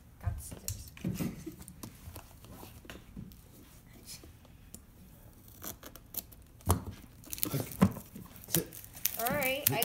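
Scissors snip and slice through plastic wrap on a boxed iPad Air, giving irregular crinkling, tearing and cutting noises, with people talking intermittently over the top.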